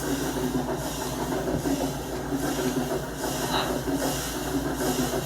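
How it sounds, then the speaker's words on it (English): A Minecraft video game train runs along its rails through a sharp curve, giving a steady rolling rumble with periodic hissing swells that stays at a moderate level throughout. "That's probably the sharpest curve this train has to take on the entire route."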